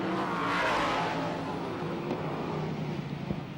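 Sprint cars race on a dirt speedway track during a 1994 championship main event, engines roaring steadily at a distance with a rising and falling drone as the field circles.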